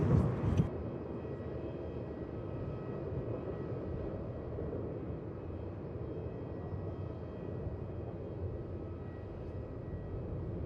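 Steady broadband roar of an aircraft at Melbourne Airport, a loud burst at the start settling into a continuous drone of engine noise heard from a distance.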